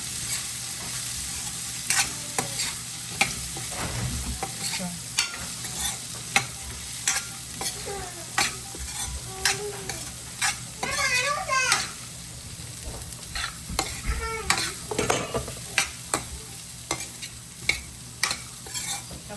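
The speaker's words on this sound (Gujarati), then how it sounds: "અને મસ્ત એવું મિક્સ કરી દઈશું આને" Green beans are stirred in a hot pan with spices, a spoon scraping and clacking repeatedly over a steady sizzle, while a voice chatters faintly in the background.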